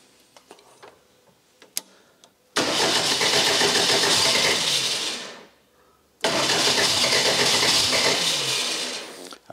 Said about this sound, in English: So let's see if we can get it started and if we have no leaks.